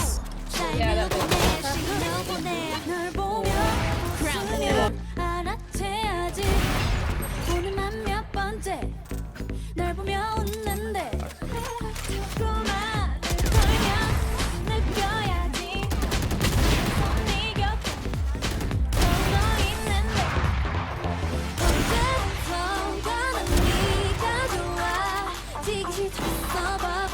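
Desert Eagle pistol fire in a shooter video game, rapid sharp shots and bursts mixed with other gunfire and booms, dense and loud throughout, with players talking over it.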